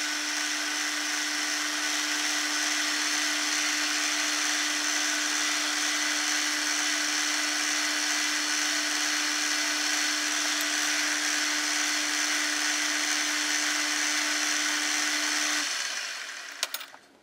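A metal lathe takes a small cleanup cut on bar stock, a steady, even machining hum and hiss holding unbroken for about fifteen seconds before cutting off abruptly at the end.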